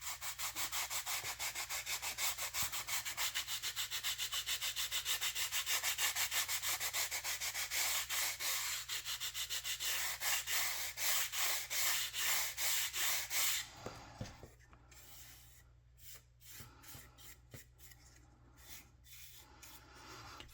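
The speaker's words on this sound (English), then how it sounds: "So I'm going to sand it until everything's nice and even." Sandpaper rubbing back and forth over the wooden frames of a Muscongus Bay lobster smack model hull, a steady close scraping rasp that runs continuously, then breaks into shorter separate strokes toward the end.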